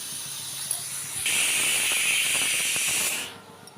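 Dried red chillies, garlic and onion dropped into hot oil for a Chhattisgarhi chech bhaji, bursting into a loud, steady sizzle that holds for about two seconds, then fades out. No talking.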